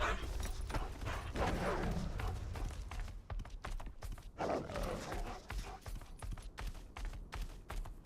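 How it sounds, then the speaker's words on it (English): A horse gallops in the Game of Thrones: Kingsroad video game, with steady rhythmic hoofbeats that run on continuously over a low, busy background at moderate volume. "Call the horse."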